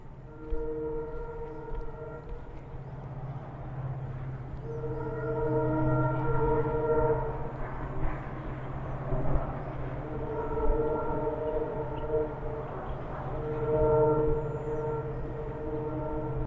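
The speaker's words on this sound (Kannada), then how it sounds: "ಅಲ್ಲಿ ಟ್ರೈನ್ ಹೋಗ್ತಾ ಇದೆ." A train passes far off near Siddaganga hill in Tumkur, sounding long, tonal horn-like blasts that repeat over a steady low rumble. The sound is distant and moderately loud, with no talking.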